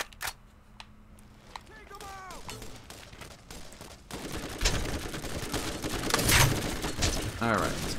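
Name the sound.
gunfire from Repeater pistol in video game Borderlands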